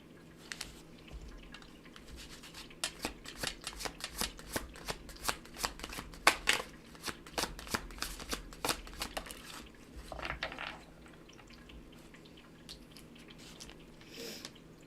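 Tarot cards are shuffled by hand in a run of crisp rhythmic riffles and taps, close and clear, pausing briefly before a few final soft shuffles, with no talk.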